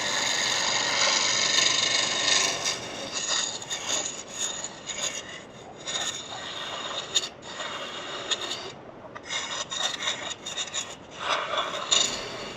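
Wooden piece spinning on a lathe at a woodturners club meeting, a tool cutting a taper with continuous rasping, scraping noise that rises and dips as the cut is worked, close and steady with no talking.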